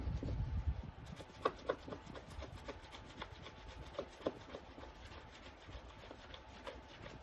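Scraping dried Waverly chalk paint off a silicone mat, a soft continuous rubbing rasp with a few sharper scratches, close and quiet, with no talking.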